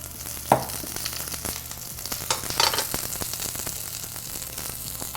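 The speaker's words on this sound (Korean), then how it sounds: "기름을 조금 두르고 양배추를 볶는데" Cabbage stir-fries in a little oil in a pan for a spicy webfoot octopus and cabbage dish, giving a continuous sizzle broken by scraping stirs and a couple of sharper clacks, with no talking.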